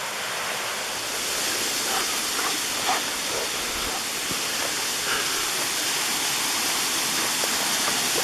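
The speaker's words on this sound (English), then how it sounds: "Little babbling brook, a couple of little waterfalls." Steady rushing water from a small babbling brook with little waterfalls in the NC South Mountain Gamelands, a continuous hissing flow spilling over rocks, close by and unbroken, with no voices.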